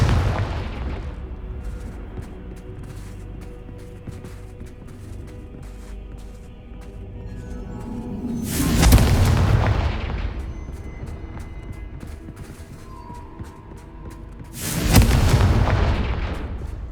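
Two deep, booming Confringo blasting-spell explosions erupt in Hogwarts Legacy, loud and full-bodied, each rolling out over a couple of seconds amid a steady rumbling game backdrop.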